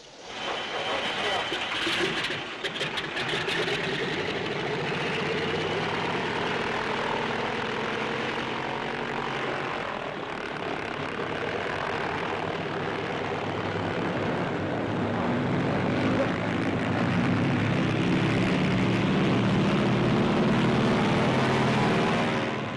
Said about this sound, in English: The nylon rope is prepared for hooking the glider behind the tow ship. Ready for the takeoff.